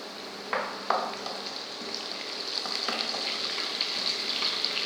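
Curry leaves hit hot oil in a pan for vegetable upma with a couple of sharp spluttering bursts, settling into a steady close sizzle that grows slightly louder toward the end.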